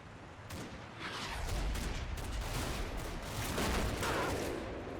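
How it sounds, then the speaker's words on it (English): Artillery shells land in a World War II combat video game, a dense rolling rumble of muffled distant blasts that swells and surges over several seconds, heard without talk. "Ah, something lands over here. That's some of my own artillery."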